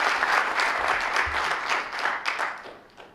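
Audience applauding at a seminar, a steady dense burst of clapping from a room full of people that holds strong for about three seconds before thinning slightly at the end.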